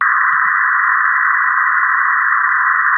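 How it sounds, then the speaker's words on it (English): White noise band-pass filtered to the 1–2 kHz range, a steady hiss held at constant level for about three seconds with no other sound beside a faint brief click. "The noise between 1 kHz and 2 kHz sounds like this"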